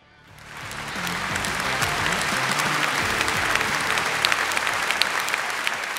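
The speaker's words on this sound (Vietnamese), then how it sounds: "hãy cùng dành một tràng vỗ tay thật lớn để chúng ta chính thức bước vào đêm ngày hôm nay ạ." A large audience at the TikTok Awards Vietnam 2022 ceremony breaks into applause, swelling quickly from quiet into a dense, sustained roar of clapping that continues at full strength, with sharp individual claps standing out near the end.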